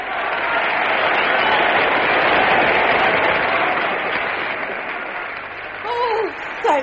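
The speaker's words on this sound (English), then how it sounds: "Now if they'd only applaud like that all time." A theatre audience in a radio drama breaks into loud, sustained applause, a broad rushing wash of many hands. It fades a little toward the end, when a voice briefly cuts in.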